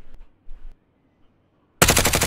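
A sudden loud burst of automatic gunfire in the shooter Warzone. It erupts near the end after quiet, low rumbles and lasts about half a second as rapid, closely spaced shots.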